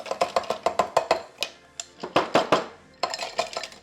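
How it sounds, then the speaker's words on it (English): Ice cubes tumble one after another into a gin cocktail glass, a quick run of sharp, close clinks, a brief pause, then another cluster of rattling cubes. "Let's put some"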